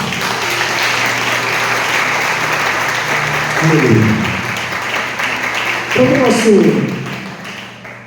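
Church congregation clapping steadily during a Wednesday worship service, a dense continuous patter that swells twice as a voice calls out over it.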